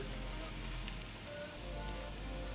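Chicken laid into hot oil in a saute pan hisses with a steady, rain-like patter and sizzle, fairly quiet and constant throughout, with faint scattered pops and no clear talk.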